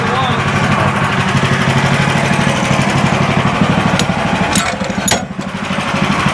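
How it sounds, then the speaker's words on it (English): A big chainsaw runs steadily throughout with a loud, rough, buzzing drone during a milling job, and a few sharp clanks cut in near the end. "Have you run my big chainsaw?"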